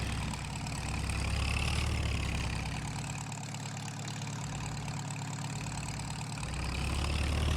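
An old WD tractor in Farming Simulator 25 runs with a continuous low engine drone, steady and fairly loud, swelling slightly at the start and end.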